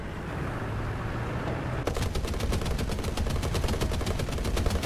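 Machine gun fire in the War Thunder vehicle combat game: after a stretch of rumbling engine noise, a sustained rapid stream of loud, evenly spaced shots begins and keeps up steadily, with no talking.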